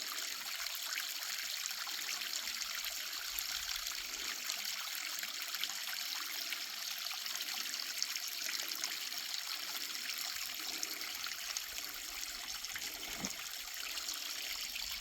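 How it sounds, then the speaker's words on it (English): Water splashes down at a waterfall, a steady, unbroken rushing and spattering that stays even and close for the whole stretch, with no one speaking. "I hear lots of splashing."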